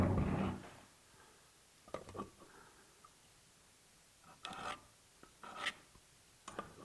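A pencil marks a line on a wooden board in a woodworking shop, giving faint, short scratchy strokes in a few separate bursts against quiet background.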